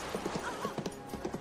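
Horse hooves clop in a quick, uneven series of close, muffled beats over a brief stretch.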